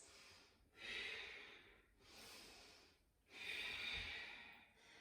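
Slow ujjayi breaths drawn during a spinal twist in yoga practice, three audible ocean-like rasping cycles, close and intimate, with quiet pauses between and no voices over them.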